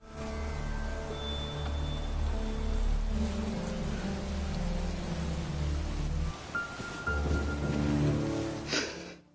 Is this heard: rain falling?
yes